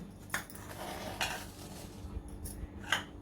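Spoon clinks against a bowl at a few scattered moments while chakka (strained yogurt) is mixed with almond slivers and ground cardamom for homemade shrikhand, amid a quiet kitchen background.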